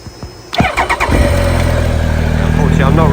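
Triumph Speed Triple 1050 motorcycle engine starting: a few clicks, a short starter crank, then the engine catches and settles into a loud, steady, close idle.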